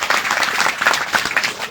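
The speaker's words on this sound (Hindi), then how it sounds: "ताली बजा के इनको धन्यवाद।" Crowd applause at a late-night religious gathering in Fiji, bright dense clapping with slight pulsing, loud and close throughout.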